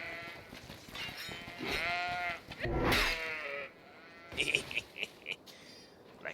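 Goats bleat in long, wavering cries in the video game GreedFall, joined by a loud burst of noise, then quicker bleats close by.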